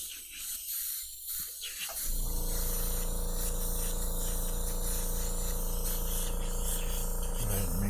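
Airbrush spraying yellow paint, starting after a quiet moment and then a steady close hiss with a constant buzzing compressor drone that carries through to the end.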